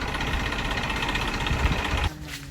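A tractor engine idles nearby with a loud, steady mechanical rumble and rattle that drops in level abruptly near the end of the clip.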